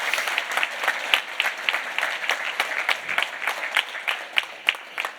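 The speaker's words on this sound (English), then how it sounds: "We can have a round of applause" Conference audience at the Zabbix Summit 2025 clapping after a talk, a modest crowd whose claps come through as distinct, uneven bursts, steady at mid distance without voices.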